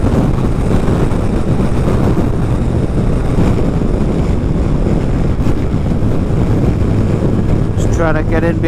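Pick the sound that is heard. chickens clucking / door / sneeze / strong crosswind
strong crosswind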